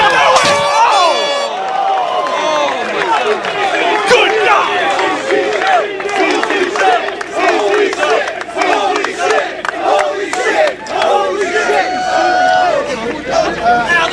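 A loud wrestling crowd at a barbed-wire match chants "jump" in rhythm, a dense roar of voices with shouts on top, while a commentator talks over it.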